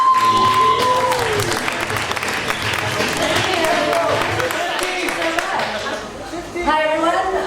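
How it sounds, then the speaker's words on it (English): Loud audience applause with cheering and crowd chatter fills a comedy night at a Jerusalem beer bar in the Machane Yehuda market, sustained throughout and swelling again near the end. "Please have a warm welcome and applause for Gidi Hoffman."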